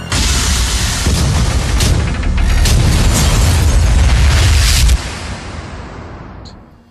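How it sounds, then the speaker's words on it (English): A huge reactor detonation explosion in the game Prey roars loud and close as a sustained rumbling blast, then abruptly drops and fades away to silence. "Warning, reactor detonation imminent."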